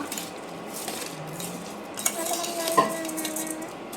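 Raw rice for fried rice is stirred in a pan with a metal utensil, giving soft scraping and light clinks, quiet and close, with a brief faint sizzle.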